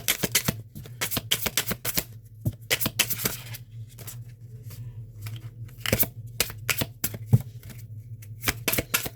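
Tarot cards being shuffled by hand, rapid crisp riffles and slaps in repeated bursts, close and fairly loud against a low background hum.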